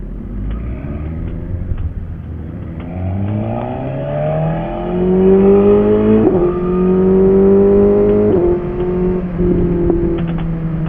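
A motorcycle engine, one of a group of BMW bikes including an S1000RR, R9T and F800GT, revs loudly and climbs in pitch through repeated accelerations, close and dominant with no talk over it.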